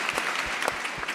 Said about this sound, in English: I think we applaud for the question, first of all.